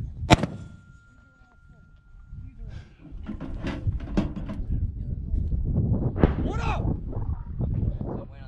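A USMC 60mm mortar fires with a sharp, loud report at the start, followed by men calling fire commands and a rumbling, noisy outdoor background of shouting voices.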